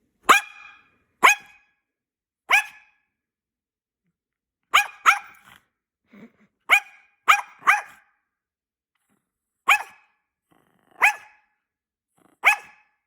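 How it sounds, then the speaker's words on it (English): A toy poodle barks in sharp, high-pitched bursts, about a dozen close, loud yaps spread unevenly with short silences between them. "That high pitched piercing bark gets on my nerves a little."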